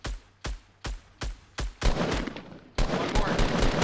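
Gunfire in a Fortnite match: five evenly spaced single shots ring out, then a denser, noisier burst of rapid shots follows, fairly close with no voices.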